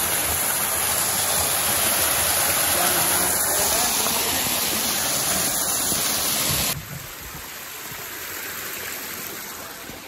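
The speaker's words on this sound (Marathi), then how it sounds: "तर मित्रांनो इथे छोटे छोटे ओढे आहेत." A small mountain stream runs steadily along a trek route to Bhimashankar through the Ganesh Ghat area, a dense, continuous wash of flowing water that drops to a quieter, more distant rush partway through, with no talk over it.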